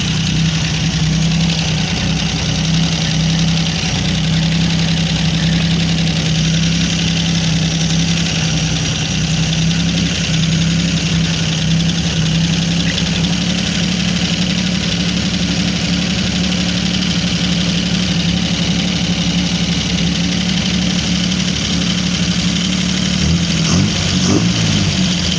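A 1952 Jeep Willys engine idles steadily after its first start in years, a loud, continuous low rumble with a slightly rough, knocking edge. It holds nearly unchanged for the whole stretch, with a brief shift near the end and no talking.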